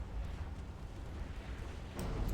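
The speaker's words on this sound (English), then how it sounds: "It was not only not a dud, it caused a major explosion." A torpedo strikes a warship in a naval battle game, setting off a deep, rumbling explosion that roars steadily and fairly quietly, with a slight swell near the end and no talking.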